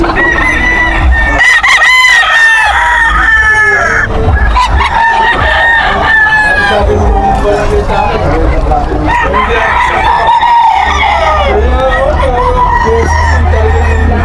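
Roosters crowing repeatedly and chickens clucking at a busy chicken market, loud and close, with overlapping calls and people talking throughout.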